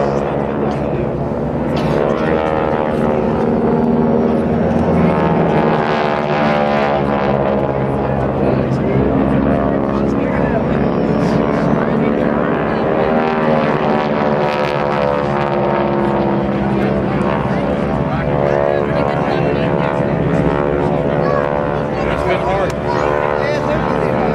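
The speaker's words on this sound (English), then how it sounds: "The Navy version of the North American Texan, the advanced trainer flown by not only the United States Navy" North American Texan propeller trainers of the GEICO Skytypers flying at a 2010 Joint Services Open House air show, a loud sustained engine drone with shifting pitch under an announcer's voice.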